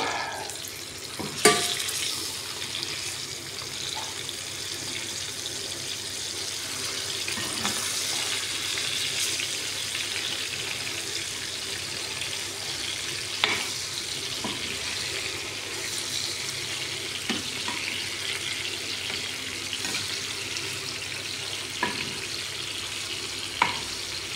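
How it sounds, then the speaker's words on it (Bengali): Dried red chillies and hilsa fish frying in a pan give a steady, moderate sizzle throughout, broken by a few sharp clicks and taps of utensils. "শুকনো মরিচ ভাজছি"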